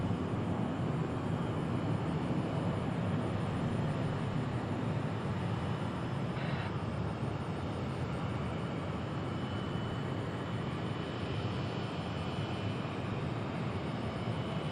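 Distant, steady roar of an Emirates SkyCargo Boeing 777 freighter at Dallas/Fort Worth International Airport, a broad continuous jet rumble heard from afar, holding evenly throughout with no voices.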